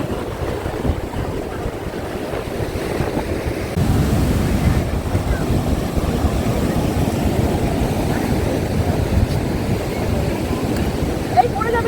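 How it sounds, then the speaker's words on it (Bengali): Sea waves roll onto Digha beach under a strong sea wind, a steady, loud roar of surf with wind buffeting the microphone throughout and no clear break. "আজকে কিন্তু হাওয়া আছে সমুদ্রে"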